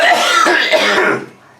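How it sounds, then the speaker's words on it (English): A harsh, raspy burst of coughing close to the mic, fading out toward the end. "I'm sorry, the coughing is going to continue,"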